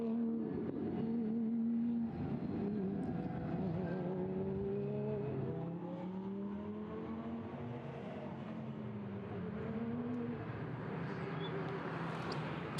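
Caterham Super Seven race cars circulating behind the safety car, engines droning and gliding through shifting pitches as several cars pass at moderate distance, a continuous mechanical hum without voices.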